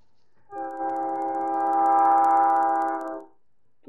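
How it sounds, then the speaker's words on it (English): Long sustained train horn blasting steadily for about three seconds, loud with a rich chord of tones, swelling in the middle then cutting off, with faint rumble beneath. "Do we have trains out here?"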